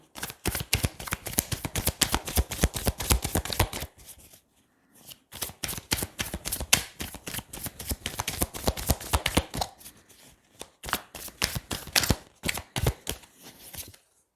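Tarot cards shuffled by hand during a reading, a long run of rapid crisp riffling flaps close up, broken by a brief pause near four seconds and a few shorter gaps later.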